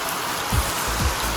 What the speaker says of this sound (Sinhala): උදේම දැන් වල වැස්ස පටන් අරගත්තා